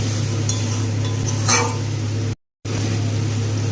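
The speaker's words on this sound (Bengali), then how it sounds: "এবার মশলাগুলোকে ভালো করে কষিয়ে নেব।" Spice paste with a splash of water stir-fried in a pan for a light fish curry, a steady low sizzle with a brief louder scrape of stirring partway through, then a short silent gap before the sizzle resumes.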